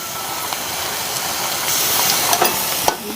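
Garlic dropped into a hot pan for a bharangi greens dish sizzles with a steady, close hiss of steam and frying that swells slightly louder partway through, with a few small stirring clicks near the end.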